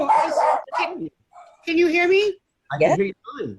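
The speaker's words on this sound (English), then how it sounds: "I'm sorry my dog is barking in the background." A pet dog barks and yips in the background of a home webinar call, a few short bursts interleaved with people talking nearby.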